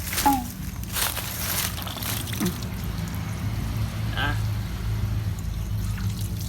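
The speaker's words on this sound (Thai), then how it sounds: "ผมก็จะใส่น้ำเข้าไปแล้วก็จะเทอีก" Water sloshes and trickles as it is poured into and out of a car battery being cleaned, a steady low splashing with someone speaking over it.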